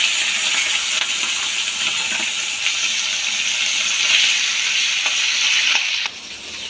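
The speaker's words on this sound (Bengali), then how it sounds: "বাকি মাছগুলো এইভাবে ভেজে নেব।" Tangra fish fry in hot oil with a loud, steady, close sizzle and hiss, broken by a few light clinks of a utensil toward the end.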